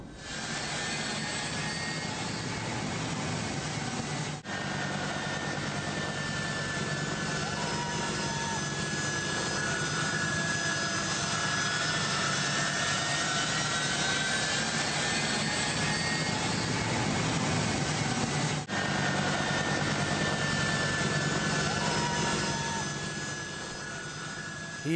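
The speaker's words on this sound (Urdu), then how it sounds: "یہ مناظر آپ دیکھ رہے ہیں کابل ایئرپورٹ کے یو ایس ایئر فورس کا یہ جہاز ہے" A US Air Force jet aircraft at Kabul airport, its engine roaring steadily and loudly for the whole stretch with a sustained whine, the noise near and continuous with no talk over it.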